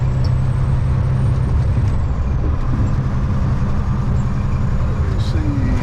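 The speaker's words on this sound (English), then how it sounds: "we're hitting our brakes" A heavy truck applies its air brakes on the highway, a loud steady hiss and rumble filling the cab without pause, with engine and road noise beneath.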